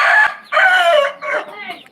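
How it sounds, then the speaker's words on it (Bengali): A four-year-old hill chicken rooster crows close and loud in one drawn-out, multi-part call lasting about two seconds. "এটা হচ্ছে পাহাড়ি মুরগি পাহাড়ি মুরগ এটা আমি দীর্ঘদিন ধরে লালন পালন করি"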